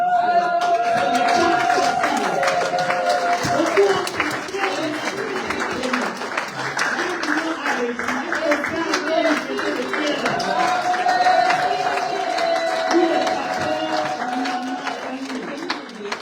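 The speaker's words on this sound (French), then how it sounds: "Je voudrais que nous puissions applaudir Maman Fanny pour cette réussite" Applause and cheering from guests at a 50th birthday celebration, a sustained clapping crowd with music and voices layered throughout.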